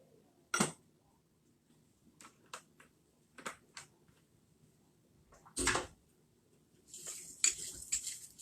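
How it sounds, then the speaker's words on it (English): Utensil scraping and clinking while canola oil is stirred into a German apple cake batter in a bowl, a few sharp taps and scrapes spread across the moment, with a louder cluster of clatter near the end. "Get that stirred in there really well"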